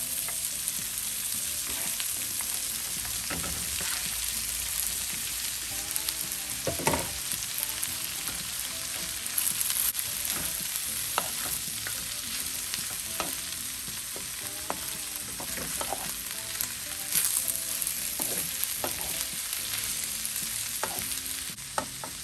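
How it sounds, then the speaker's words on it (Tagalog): Cabbage and mixed vegetables stir-fried for pancit bihon, with a steady loud sizzle throughout and repeated scraping and tossing strokes from a utensil in the pan, close up and without talk. "Ihalo na rin natin yung ating repolyo."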